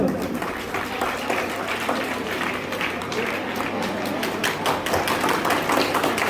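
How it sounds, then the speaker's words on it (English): An audience at a school farewell ceremony for graduating students gives a sustained round of applause, a dense, even wash of many hands clapping together with steady loudness throughout. "Please put your hands together and give a big round of applause for them."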